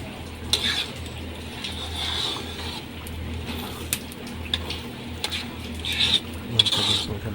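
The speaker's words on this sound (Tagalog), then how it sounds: "Kailangan na po laging haloin ng loob para hindi masunog yung labi." A spoon scrapes and clinks against a cooking pot as food is stirred continuously to keep it from burning, with irregular metallic taps and scraping close by and no talking.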